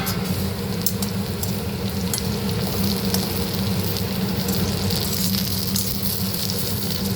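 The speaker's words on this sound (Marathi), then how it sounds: "आता मिरच्या आणि लसूण छानपैकी परतलेला आहे छान भाजून झालेला आहे" Green chilies and garlic fry in a pan for a traditional Marathi chili thecha, giving a steady, close sizzle with crackling spits throughout and no talking.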